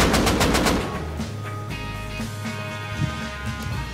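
Auto turrets in the video game Rust fire rapid automatic bursts right up close, then fade into a steady mechanical hum with a few scattered thumps.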